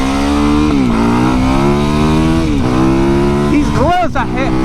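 A 450cc dual-sport motorcycle accelerates hard off the line with a loud, close engine note that climbs in pitch, drops at each shift, and keeps building without a break.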